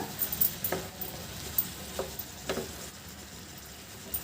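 Curry leaves stirred into brinjal curry in a pan, giving a few soft scraping and clinking strokes at irregular intervals over a faint sizzle, quiet and close.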